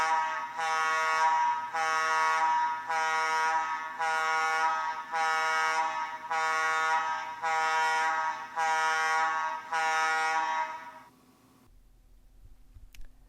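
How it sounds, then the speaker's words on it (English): Combustible gas alarm air horns at a sulphur plant blare in about eight loud, evenly spaced pulses of harsh, buzzy tone for roughly eleven seconds, then cut off to near silence. "The combustible gas alarm and horns sound like this."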